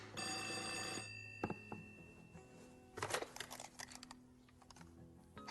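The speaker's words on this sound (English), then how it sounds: "Pick up the phone." An old-fashioned telephone bell rings loudly in one sustained burst, then stops, followed by faint clicks, rustling and tapping like keys in a quiet room.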